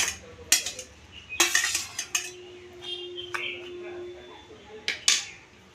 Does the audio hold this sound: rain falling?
no